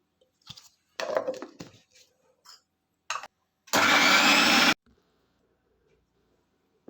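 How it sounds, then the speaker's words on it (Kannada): A mixer grinder whirs through mango chutney ingredients with a little added water, one loud steady burst of about a second, preceded by scattered clinks and handling noises in a kitchen. "ಇದಕ್ಕಿವಾಗ ಒಂದು ಸ್ವಲ್ಪ ನೀರು ಹಾಕ್ಕೊಂಡು ಮಿಕ್ಸಿ ಮಾಡ್ಕೊಳ್ಳೋಣ"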